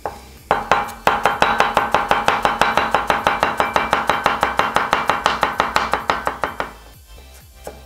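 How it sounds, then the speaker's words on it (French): Half a shallot being chopped with a knife on a board: a fast, even run of around forty sharp taps, close and loud, stopping after several seconds with no voices. "Je vais hacher ma demi-échalote."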